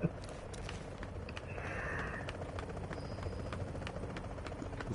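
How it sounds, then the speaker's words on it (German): A helicopter from the video game Tom Clancy's The Division drones as a faint, continuous rotor hum in the background, with light footstep-like taps over it. "Der kommt gerade mit dem Hubschrauber. Da hinten der Hubschrauber."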